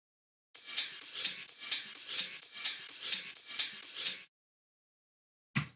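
Hi-hat loop taken from a track, used in a complextro production: a crisp, bright pattern of regular pulsing hits at a steady tempo, playing alone for several seconds before stopping, then one brief low hit near the end.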